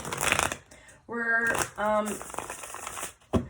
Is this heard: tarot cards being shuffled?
yes